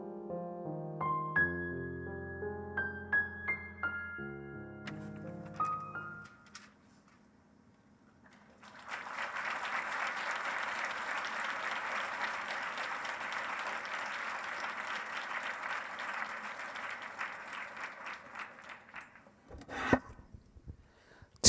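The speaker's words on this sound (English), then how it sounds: "Give her another round of applause." Audience applause at a conference general session: a sustained wash of clapping from a large crowd, steady and moderately loud for about ten seconds, following a stretch of music.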